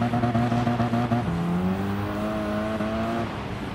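A Toyota race car in Gran Turismo 7 driving on a dirt course, its engine droning steadily with clear harmonic tones that drop as it shifts gear, then climb again, with no pauses.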